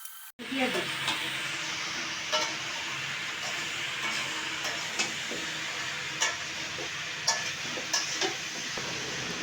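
Khichuri fries in a pan as cumin and coriander powder are stirred in, a steady hiss with scattered scrapes and taps from the spoon, heard close and continuous.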